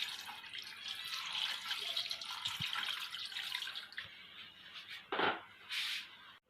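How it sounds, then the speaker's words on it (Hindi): Water pours steadily into a cooking pot for mutton yakhni pulao with a broad splashing hiss, ending in a few louder sloshes and gulps as the flow stops. "इसमें मैं 4 गिलास पानी शामिल कर रही हूँ।"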